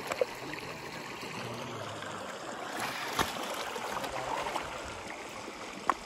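A mountain stream in the hills of Pauri flows steadily, a continuous broad rush and trickle of water with occasional faint knocks, moderately quiet and without voices.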